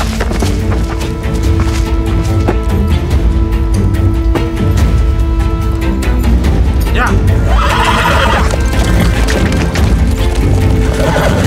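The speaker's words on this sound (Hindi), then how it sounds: "सिपाहियों घोड़े लेकर आओ।" Horses neigh and whinny amid a dense dramatic soundscape with loud music, hoofbeats and crashes, while voices speak throughout.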